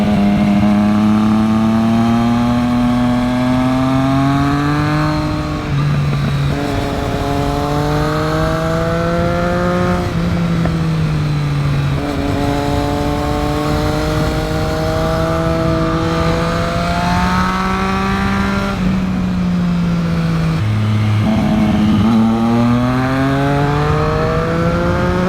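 A Triumph Street Triple 660 S motorcycle engine drones steadily through a ride, its pitch climbing through each gear and dropping at every shift, loud and close throughout.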